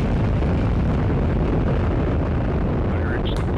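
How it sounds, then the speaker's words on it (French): Rocket launch of the OSIRIS-REx mission from Cape Canaveral, Florida, in 2016: a continuous, heavy roar of engine noise, broad and rumbling, sustained throughout with no voices over it. "c'était le son de la mission Osiris-Rex partie en 2016 de Cap Canaveral en Floride"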